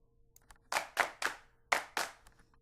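Sampled MIDI handclaps play a short clapping-music pattern, five crisp dry claps in an uneven rhythm, close and clean against near silence.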